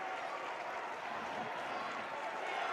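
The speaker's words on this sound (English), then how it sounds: "So a big round of applause, hugs all over the place for Stockton Ashby." A crowd at a high school boys' 4A state tournament basketball game fills the arena with steady applause and cheering. A commentator talks over the noise.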